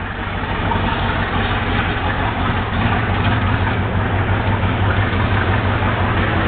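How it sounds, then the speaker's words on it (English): A car engine idles steadily at about 700 RPM, a low, even rumble that holds close and constant throughout with no voices over it. "it's pretty responsive to the throttle. And it idles about 700 RPM, which is what it's supposed to idle at"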